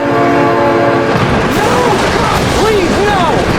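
In the BeamNG.drive driving game, a train sounds a long, loud horn, then rumbles past with sweeping, pitch-bending tones, close and steady throughout.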